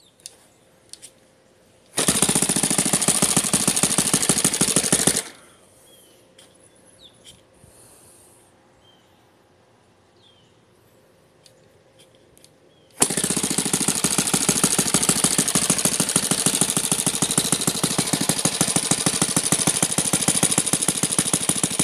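Saito FG30 model engine with CH CDI ignition and an APC 16-8 propeller, loud rapid buzzing for a few seconds, then a quiet pause with faint clicks, then running again loud and steady until the end.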